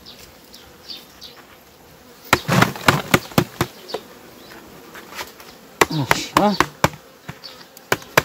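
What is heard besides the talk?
honeybees buzzing, handful of winter bees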